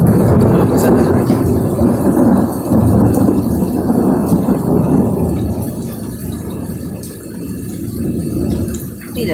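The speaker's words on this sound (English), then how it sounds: "I got my live stream going for the storm." Thunder rolls and rumbles through a Missouri thunderstorm, loud and sustained over steady rain, fading somewhat toward the end with a brief renewed swell; no clear talk stands out.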